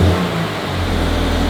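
A Toyota GR86 with a Hellfire aftermarket exhaust and a larger engine gives a short, deep, rumbling rev, heard close and fairly loud.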